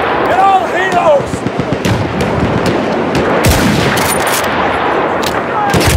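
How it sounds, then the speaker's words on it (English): Dense machine-gun and rifle fire in the Battlefield video game, loud, close and continuous bursts with sharp cracks and booming impacts throughout, shouting voices mixed in. "There's an enemy machine gun!"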